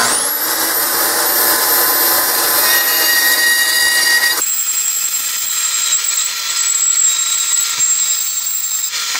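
A Milwaukee bandsaw cuts through metal with a loud, continuous high whine and grinding rasp, close up, its pitch shifting partway through the cut, with no talking.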